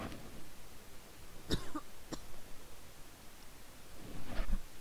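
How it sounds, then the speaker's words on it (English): Several short, dry coughs come in separate bursts, with a muffled rustle and a quiet room around them. "I had to cough for a minute there"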